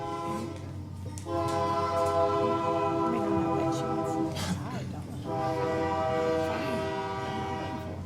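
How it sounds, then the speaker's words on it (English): A train passes close by during a city council meeting in Conway, its horn sounding in long sustained blasts with a brief pause, loud over the rumble of the cars, while faint voices murmur beneath. "We can wait till after the train comes."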